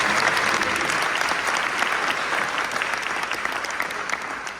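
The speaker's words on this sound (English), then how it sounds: "Let's give her a big round of applause." A graduation ceremony crowd at St John, Ocala, applauds the national anthem singer, a dense, close wash of many hands clapping that holds steady and slowly fades.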